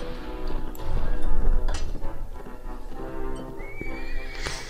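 A horse in the medieval combat game Mount & Blade lets out a loud whinny while its hooves clip-clop at a gallop, close and busy, with no voices over it.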